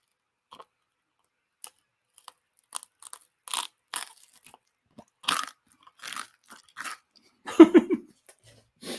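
Crunchy food being bitten and chewed during a boodle-style ASMR eating session, with sparse, close crunches at irregular intervals and one louder burst of chewing near the end; no talking.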